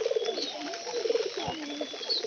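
Racing pigeons coo steadily at close range, soft repeated rolling calls overlapping one another with a faint patter of rain behind them.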